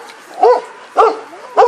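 A puppy barks three times in quick succession, close and loud, each bark short and yappy with a slight whine.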